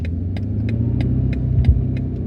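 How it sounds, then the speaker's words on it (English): 2025 BMW M5 in manual mode with a low steady engine rumble and a series of sharp, evenly spaced exhaust crackles and pops over it, close and moderately loud. "the proper crackle and pop of the exhaust only seem to exist in the M2 version"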